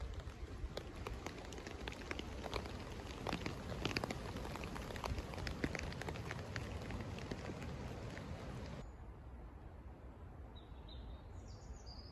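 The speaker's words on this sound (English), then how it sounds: "It rained all night long." Steady rain falls through the night on a campsite with military surplus camping gear, a continuous close hiss dotted with sharper drop taps, moderately quiet and without voices.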